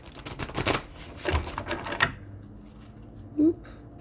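Tarot cards are shuffled in a few quick rustling bursts close by, followed by a brief soft sound.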